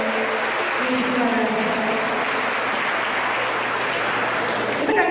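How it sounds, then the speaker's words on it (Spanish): Audience at a live music show applauding, a dense, even wall of clapping that carries on steadily for five seconds, with faint crowd voices underneath. "un aplauso para ellos"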